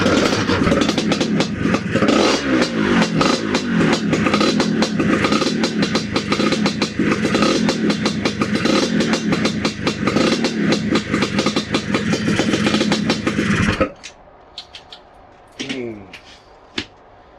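A Lambretta scooter engine runs loud and rough for about fourteen seconds after gearbox oil and fuel are topped up, with rapid irregular revving and clatter, then cuts out abruptly, leaving faint clicks.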